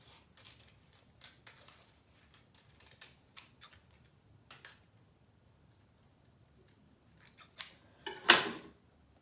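Scattered soft snips and paper rustles come at irregular intervals over a quiet background, ending with a louder crisp crunch of paper.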